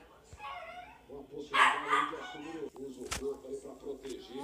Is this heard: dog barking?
yes